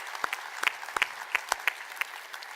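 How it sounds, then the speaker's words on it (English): Sparse, scattered claps from a small conference audience at a tech session, a handful of distinct sharp hand claps spread irregularly over a quiet room. "I would love if you and all of us can give them a round of applause"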